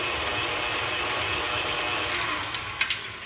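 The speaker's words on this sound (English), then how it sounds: "I'm not sure if you're going to be able to hear my voice over the mixer very well, but just beating the egg and the vanilla until it's well incorporated" An electric hand mixer whirs steadily while beating egg and vanilla for cornflake cookie dough, a continuous high buzzing drone with a few light clicks of the beaters against the bowl near the end.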